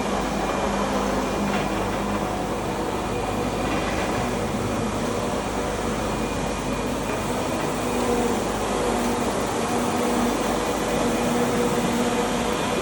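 Floor scrubber running steadily while scrubbing, its brush and vacuum motor making a constant broadband mechanical roar with a low hum, loud and unbroken throughout with no talking.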